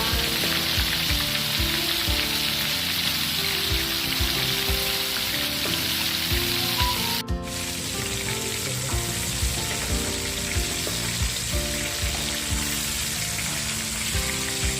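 Loud, continuous crackling sizzle of battered fermented fish frying in hot oil, with a brief dip in the middle.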